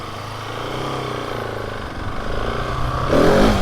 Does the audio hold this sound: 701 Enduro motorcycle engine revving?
yes